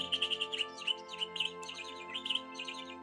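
Read-along sound effect of birds chirping, a rapid series of bright tweets and trills over a sustained musical backing, clear and close with no voices.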